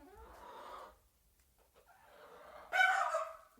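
Leghorn chickens cluck in two short bouts, a softer run of clucks followed by a pause, then a louder, sharper burst of squawking clucks close by.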